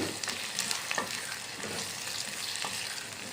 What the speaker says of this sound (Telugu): ఉల్లిపాయ పచ్చిమిర్చి వేసుకుని ఫ్రై చేసుకుందాం